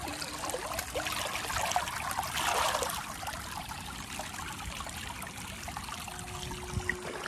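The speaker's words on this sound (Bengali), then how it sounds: "সবদিকে পুরা জল জল হয়ে গেছে" Floodwater flows and trickles across a rain-soaked street outside a house in Bengal, a steady close wash of running water with no talk.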